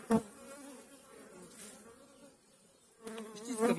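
Honey bees buzzing inside a barrel beehive, a steady dense hum with a brief louder swell near the start and again toward the end.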